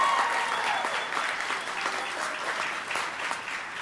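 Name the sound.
audience applause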